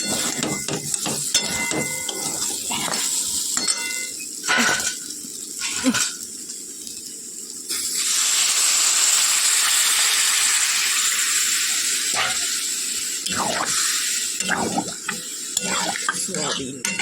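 Water poured into frying spices for a soybean and potato curry, bringing a loud sustained hiss and bubbling after clattering stirs and scrapes in the pan, close up.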